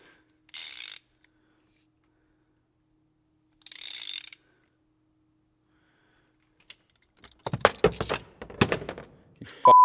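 A socket ratchet works a mounting bolt for a jerry can mount on an FJ Cruiser: two short bursts of clicking with a long pause between, then a louder flurry of ratcheting clicks and clunks near the end.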